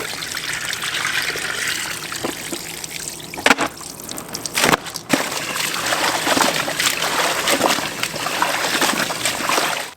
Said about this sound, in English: Now wash the hide in water until the water is clear.